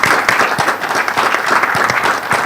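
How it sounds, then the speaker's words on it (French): An audience breaks into sustained applause as a woman leaves the stage, dense, fairly loud clapping with a few individual claps standing out. "On l'acclame pendant qu'elle sort."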